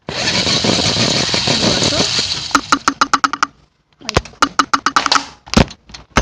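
Small electric motor of a toy science-kit mobile crane lowering a load, first a steady close whir, then rapid sharp clicking pulses broken by a short silent gap.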